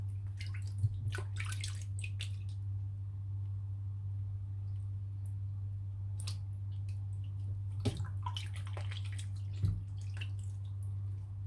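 Freshly picked Mönchskopf mushrooms are rinsed in water, with scattered splashes and drips over a steady low hum, fairly quiet and close, with no voices.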